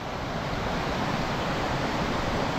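River water rushing steadily near a dam on the way to Camp Malaya, a continuous broadband wash close to the microphone with no talk over it.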